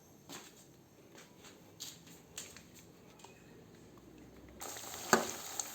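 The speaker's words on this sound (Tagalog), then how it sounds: "Lalagay na natin ang ating mani" Peanuts for Filipino adobong mani frying in a pan, a low steady sizzle with scattered soft clicks and stirring scrapes, growing louder and denser near the end with a few sharp pops.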